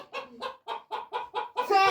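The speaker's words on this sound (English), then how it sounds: "There's chickens. Chickens are bad." Chickens cluck in a steady series of short calls, close by, ending in a louder drawn-out squawk.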